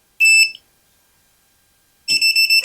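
An outlet voltage tester gives two bursts of shrill, steady electronic beeping, one short and one pulsing, separated by a quiet gap while checking a troubled kitchen outlet that still has power.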